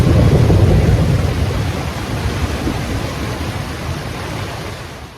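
A thunderstorm with rain rolls over a river campsite on a canoe trip, a broad, loud rumble and steady hiss of heavy rain that slowly fades over a few seconds.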